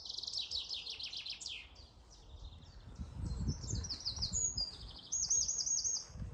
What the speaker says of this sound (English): Birds are really noisy.